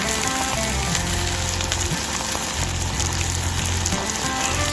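Skin-on pork belly sizzles loudly and steadily on a hot grill at a campsite, a dense, continuous crackle with no voices.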